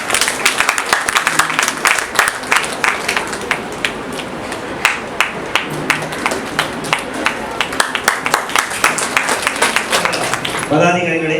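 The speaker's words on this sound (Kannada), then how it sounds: "ತಾವು ಕೂಡ ಅವರ ಚಪ್ಪಾಳೆಯ ಮೂಲಕ ಜೊತೆಗೂಡಬೇಕು" Audience applause at a Navodaya Kannada Seva Sangha event in Thane honoring Indrani Diwakar Shetty: steady, dense clapping from a seated crowd, sustained and fairly loud throughout, with a voice starting near the end.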